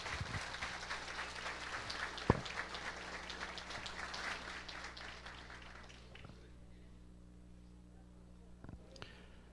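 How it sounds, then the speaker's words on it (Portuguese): An audience at a diploma ceremony claps in a burst of applause that fades toward the end, with a voice talking over it and a few stray claps after. "uma salva de palmas"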